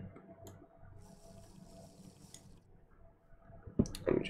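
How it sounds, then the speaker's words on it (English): In the farming video game FarmValley, a character drinks water, heard as soft trickling and clicking that ends in a louder splashy gulp. "Let me drink some water"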